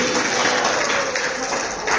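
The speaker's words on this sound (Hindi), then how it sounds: "सभी कोई तालियां बजा के भगवान का अभिनंदन स्वागत करेंगे" An audience claps together to welcome the deity during a Shri Khatu Shyam katha gathering, a dense, steady wash of applause lasting throughout with voices mixed in.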